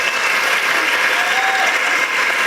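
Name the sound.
audience applauding the students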